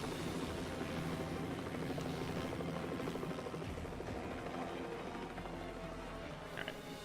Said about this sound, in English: Let's steal this guy's helicopter